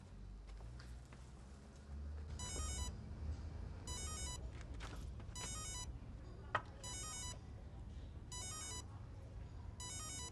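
A mobile phone rings in short bursts of high electronic chirps, repeating at regular intervals over a noisy background, fairly faint.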